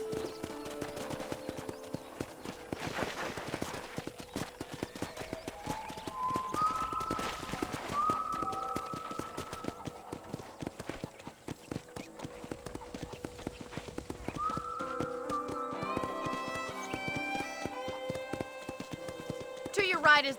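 Horse hooves clip-clop at a steady walking rhythm in Red Dead Redemption, moderately near, under a game character's talk and soft background music.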